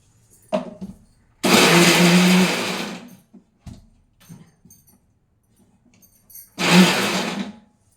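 A kitchen mixer grinder whirs loudly in two bursts, a long run of about a second and a half and a shorter one later, with quiet clatter and handling between them.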